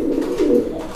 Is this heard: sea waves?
no